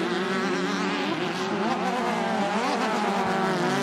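Race cars roaring around a track at a Sportsman event in Elk River, Minnesota, engines whining loud and continuous with rising and falling pitch as they pass close by, no voices over them.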